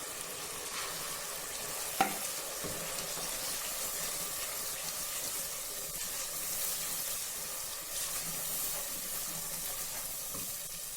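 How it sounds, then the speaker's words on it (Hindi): Spices frying in ghee for kadhi pakora give a steady soft sizzle throughout, with an occasional clink or stir of a utensil and no talking. "और मसाले को 2 से 3 मिनट तक भूनेंगे जब तक कि घी ऊपर ना आ जाए"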